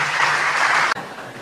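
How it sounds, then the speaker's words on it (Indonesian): Applause for a speaker at a religious talk on demonstrations, a dense steady wash of clapping that cuts off abruptly partway through, followed by quieter room sound. "Tepuk tangan untuk beliau."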